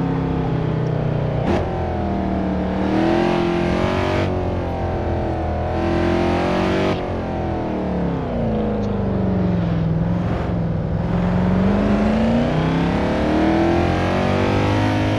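Simulated Mercedes C63 AMG W204 in Assetto Corsa, loud engine revving and turbo spooling, pitch sweeping up and down through gear changes, continuous and close, with no talk.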